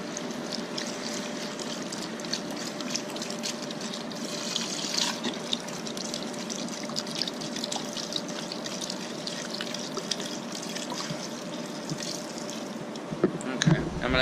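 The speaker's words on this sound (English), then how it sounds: "then you're gonna add your beef broth. I use 2 of these" Beef broth pours into a cooking pot with a soft, steady stream of liquid that continues throughout, a few faint clinks near the end.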